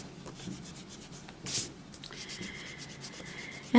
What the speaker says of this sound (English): I better erase my lines.